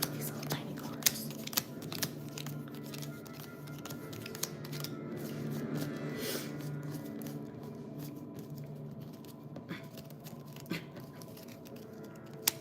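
Small, tiny game cards are shuffled by hand in a steady papery riffle and rustle that keeps going for several seconds, with faint voices in the background.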